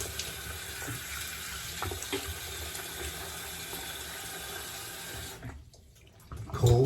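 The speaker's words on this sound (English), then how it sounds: "All right, cold water now." Cold water runs steadily from a bathroom tap into a sink during a wet shave, a close, even splashing stream that cuts off briefly before a louder gush at the end.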